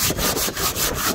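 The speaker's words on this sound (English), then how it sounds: "80 grit sanding sponge." Wood being sanded by hand with an 80 grit sanding sponge on a house exterior: close, rhythmic scratchy back-and-forth strokes, about five quick passes in a second.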